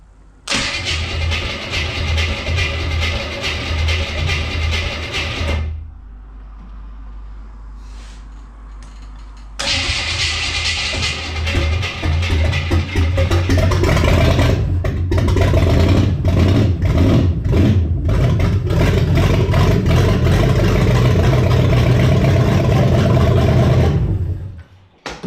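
Abandoned Buick 350 V8 fired for its first start after an oil pump and pan job: it cranks and catches loud and rough, drops to a brief lull, then roars back and runs unevenly with revs before shutting off.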